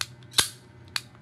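An electric toy gun fires a few sharp, snappy pops, one loudest near the start and another near the end, with a quiet hum between shots and no talking.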